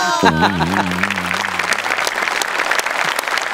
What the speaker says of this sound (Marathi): साहेबांसाठी एकदा जोरदार टाळ्या होऊन जाऊ देत.